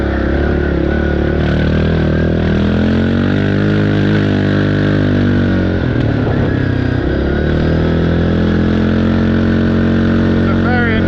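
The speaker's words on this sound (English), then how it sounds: "As we start slowing down, you can start hearing this exhaust pipe popping and crackling." A Yamaha Grizzly 700 ATV engine runs steadily and loudly up close while slowing down, its exhaust breaking into irregular pops and crackles as it decelerates, with a brief rough, chaotic burst midway.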